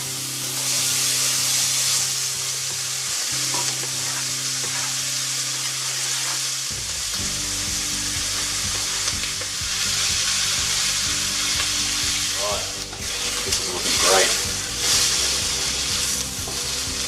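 Venison rolled rib roast sears in a hot pan, giving a loud, continuous sizzle and spitting hiss throughout, with bursts of crackling toward the end and no voices.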